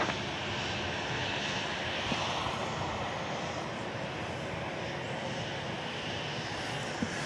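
A Southwest jet airliner roars steadily at a distance during takeoff from runway 31 left at Dallas Love Field, a broad, continuous engine rumble with no voices.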